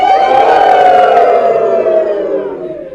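A group at a laughter yoga session in a public library lets out a loud, sustained cheer of mixed voices that fades over about three seconds.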